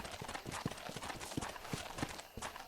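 Horse hooves clip-clop at a steady walking pace in Red Dead Redemption, close and moderately loud, with background game sounds and some faint talk mixed in.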